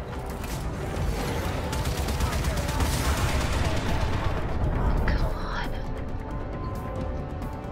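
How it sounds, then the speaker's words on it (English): Torpedoes launching in the Warframe game, a dense continuous barrage of rapid thudding blasts and rumbling booms that stays loud throughout, swelling toward the middle and easing slightly near the end. "Launch torpedoes!"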